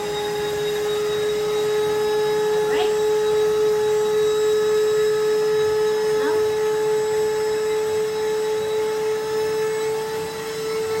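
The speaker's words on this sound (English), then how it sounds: "we're going to start cleaning using a traditional vacuum that has a filter" A vacuum cleaner runs with a steady whine and constant droning hum throughout, plus a couple of brief scraping sweeps.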